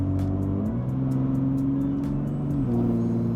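BMW X3M with an OPF delete and its exhaust valves open, a deep steady rumble held close by, stepping up in revs briefly and holding before easing back, with no talk over it.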